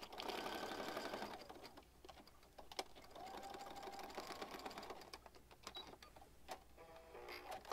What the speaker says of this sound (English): so we got that stitched across there